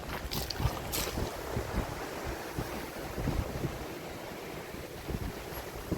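Strong gusting wind roars across the microphone in a continuous, buffeting rush, with a faint wash of surf underneath.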